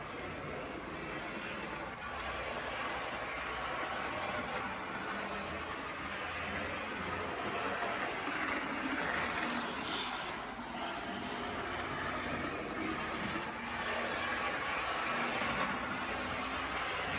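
An HO scale Tyco, Bachmann or Life-Like train-set diesel with a Power Torque style motor runs along model track, giving a steady, smooth, fairly quiet whir and rumble that holds evenly throughout.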